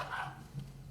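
Dogs barking somewhere off to the side, a brief muffled bark or two sounding faint and distant over steady background hum in a quiet room.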